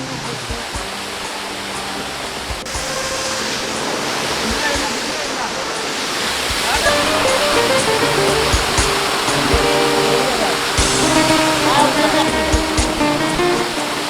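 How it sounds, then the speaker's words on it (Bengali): Richang waterfall in Sajek rushes in a loud, continuous roar that swells a little partway through, with people talking over the constant rush of falling water. "আমরা এখন চলে সেই রিচাং ঝর্ণায়"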